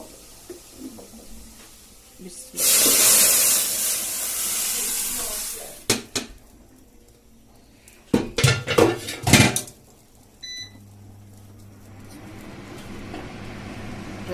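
Tempering poured into a pot of dal on the stove: a loud burst of sizzling hiss that settles, followed by several sharp metallic clanks of a spoon against the pot, with faint voice in the background.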